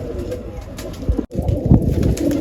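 Several racing pigeons coo close by in a loft, soft repeated throaty calls overlapping against a steady low background hum.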